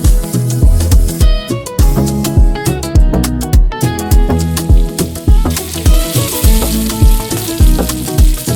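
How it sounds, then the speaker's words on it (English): Fresh tilapia pieces fry in hot oil with a loud, close, continuous sizzle, punctuated by regular rhythmic bursts as the fish is stirred or turned; no speech. "We start by cleaning our fresh tilapia, cutting it into pieces and frying it until golden and crispy."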